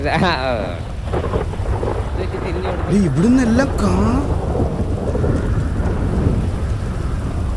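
Steady rain with rumbling thunder washes broadly under a voice speaking in Malayalam, the downpour continuous throughout and fairly loud.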